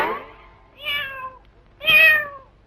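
A cat meows three times, the cries separated by short pauses, the last one the loudest and most drawn out, with no voices in between.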